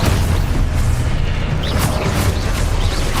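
An Expulso spell explosion in Hogwarts Legacy, a loud, dense booming blast that roars continuously and close up.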